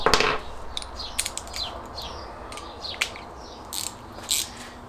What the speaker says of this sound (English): So I'm just going to take our 13s and just undo the straps on each side.